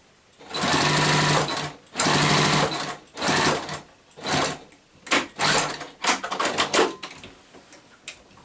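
A sewing machine stitches a rice-filled heat pack in loud, close bursts of rapid whirring, with short pauses between runs as the fabric is backstitched and then sewn straight across.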